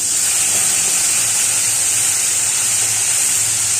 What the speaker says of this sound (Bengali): এবারে পেঁয়াজ বাটাটা দিয়ে ভালো করে আমি কষিয়ে নেব